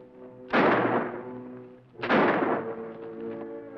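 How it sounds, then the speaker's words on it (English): Two loud gunshots, each a sharp blast with a ringing tail, fired about a second and a half apart during a shootout in a western TV series. "He'll think we're shooting at him."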